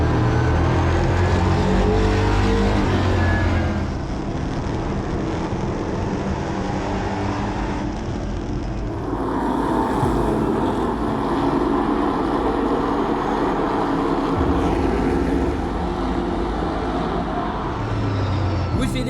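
Stock cars roar around the track in a 300-lap LMS race at the Bacon Ball, with steady loud engine drone and passing cars throughout, under a commentator's talk.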